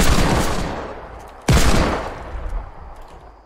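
Two loud, close Desert Eagle gunshots ring out in Fortnite gameplay, each a sharp blast followed by a decaying echo, about one and a half seconds apart.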